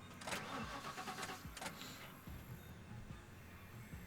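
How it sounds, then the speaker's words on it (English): A car engine cranks and starts in the video game The Last Stand: Aftermath, with a few quick starter bursts followed by a settling idle rumble, close and alone. "So we'll hop in the car and go."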